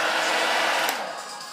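Hair dryer blowing steadily at close range to heat Frixion erasable pen ink on paper, a broad continuous whoosh that eases slightly toward the end, with no talking.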